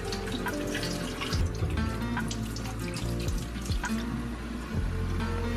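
Kitchen tap water runs steadily into a sink as raw salmon for sashimi is gently rinsed, a continuous close splashing stream with a few heavier drips and knocks and no talking.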